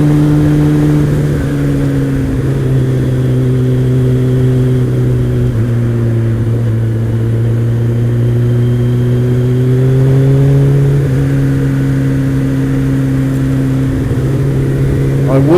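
Kawasaki ZX-12R motorcycle ridden at steady speed, a loud continuous engine drone holding a fairly even pitch with slight rises and dips, heavy wind rush throughout.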